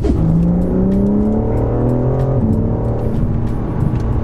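A new BMW M4 accelerating hard on a road, its engine note loud and close and climbing steadily in pitch, with a clear shift around the middle before it pulls again.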